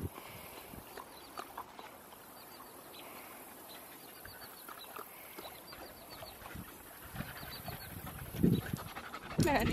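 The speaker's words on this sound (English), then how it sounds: "He's just panting away." A dog pants rapidly and rhythmically outdoors on a hot day on soft, mucky ground, with louder scuffling and splashing-like bursts near the end.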